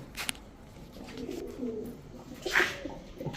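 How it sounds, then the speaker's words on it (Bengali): Soft, low coos from racing-line pigeons murmur in the background at a pigeon sale, with a brief louder rustle or flutter near the end; no clear voices. "এটা হচ্ছে পাল্লা লাইনের কবুতর"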